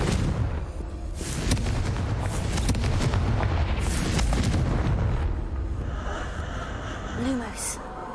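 Confringo fire spell blasts in Hogwarts Legacy, a series of booming, rumbling explosions close up, followed by softer crackling as the blasts die away.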